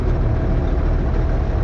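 A Zetor 16145 tractor creeps slowly onto a weighbridge, its engine giving a steady, close, low rumble with no speech.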